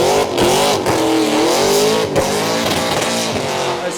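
A car doing a burnout in a smoky skid pad competition, engine held at high revs with wavering pitch and tire squeal, loud and close, with brief dips as the throttle lifts.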